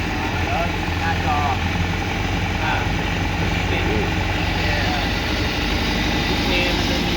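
A Honda CBR1000RRR sportbike idles at a dealership in a steady, loud, unbroken engine drone while people talk over it.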